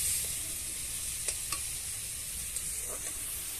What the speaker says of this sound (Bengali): মশলাটা একটু কষানো হবে।